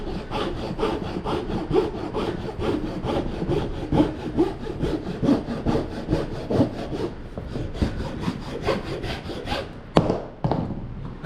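A file rasps over the rough areas of a carved wooden wand in quick, regular back-and-forth strokes, close and distinct, ending with a couple of sharp knocks.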